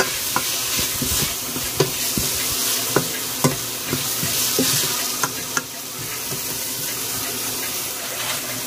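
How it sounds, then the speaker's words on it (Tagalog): Potato pieces tossed and stirred in a frying pan make a sizzle with repeated sharp scrapes and knocks of the spoon, loud and close, and no one speaks. "Lagay na rin natin yung potato. At saka haluin."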